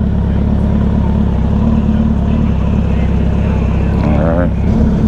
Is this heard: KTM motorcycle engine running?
yes